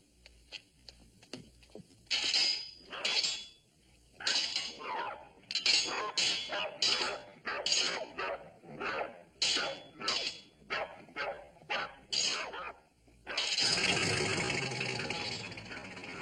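Several dogs bark and yip in quick, agitated bursts at a house, excited by a ruler being scraped, with irregular overlapping barks followed by a steady scraping rasp near the end.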